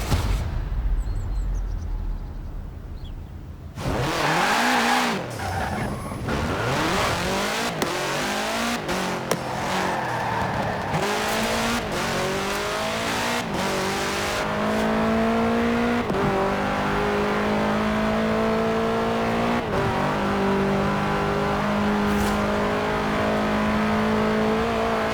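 A 1966 Volkswagen Beetle carrying a 2.5-liter turbocharged flat-four in Forza Horizon 4 idles roughly, then revs hard and accelerates through repeated gear changes. The engine note climbs and drops for about 25 seconds, loud and close, with brief tire squeal.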